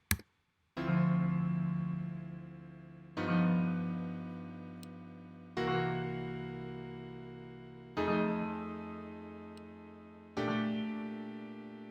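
Chords in four-way spread voicings ring out one after another on a keyboard instrument, five sustained chords struck at roughly steady intervals, each decaying before the next, with no talking.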